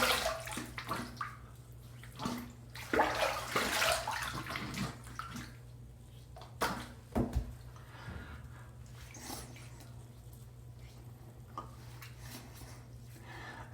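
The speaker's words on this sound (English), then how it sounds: "Let's rinse." Tap water runs and splashes intermittently as a Schick Injector razor is rinsed between shaving passes, with short bursts of flow and quiet gaps between them, close by and moderately loud.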